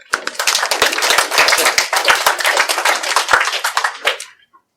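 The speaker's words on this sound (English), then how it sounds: "Round of applause." A small group claps for a class, sharp distinct hand claps at close range, brisk and uneven, stopping cleanly near the end.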